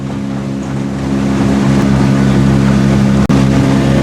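A motorboat cruises across a lake on a family camping trip, its engine a loud, close, continuous roar mixed with wind and water rush, with one brief dropout near the end.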